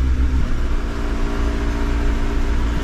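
A Honda Civic engine runs at raised idle close by, a loud steady rumbling drone with slight fluctuations and no one speaking.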